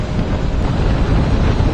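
Steady, loud wind roar buffets the microphone on a Suzuki Gixxer SF250 motorcycle cruising at around 60-70 on a highway, a continuous rush with the engine buried beneath it.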